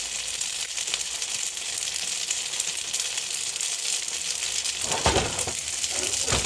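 Fried rice sizzles in a skillet with a steady, fairly loud hiss of hot grease, and a brief clattering scrape near the end as the pan is moved around.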